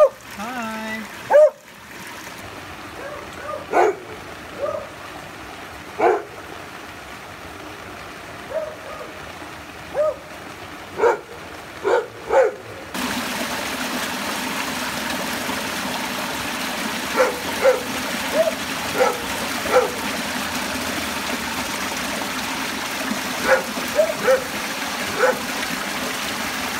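A dog barks in short, separate bursts during a heavy Malaysian rainy-season downpour, first over quieter surroundings and then against a steady wash of rain and rushing drain water.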